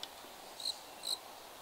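Crickets caught at night chirp in two short, high bursts against a steady faint insect hiss, with no voices.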